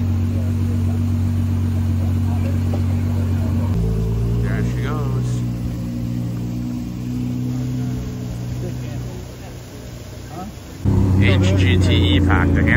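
Ferrari SP3 pulling out at the Cavallino Classic 2024 car show, a loud steady engine drone with a deep hum that dips and then surges as the car moves off, under a constant din of the crowd.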